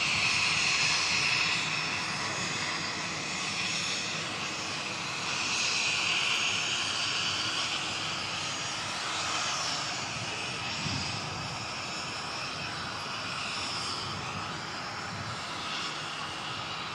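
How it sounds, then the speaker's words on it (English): A small private jet arrives at Christchurch Airport, its engine roar heard at a distance as a steady, broad whine and rumble that swells slightly and then gradually fades, with no talking. "there's a little private jet just came in"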